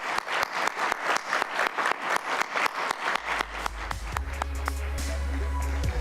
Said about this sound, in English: I want everyone to give them all a round of applause again